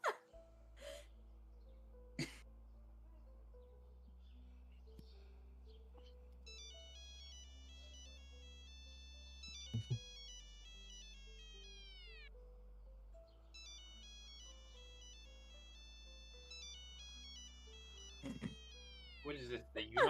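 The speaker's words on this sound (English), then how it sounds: "You're getting a phone call on your data gauntlet." A data gauntlet in the video game Overture: Absolution rings with an electronic ringtone, playing as two long repeated trilling phrases over a low hum, with a few short vocal sounds around them.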